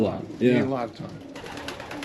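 Hens cooing inside a pigeon loft, soft rolling coos close by under a voice speaking over them.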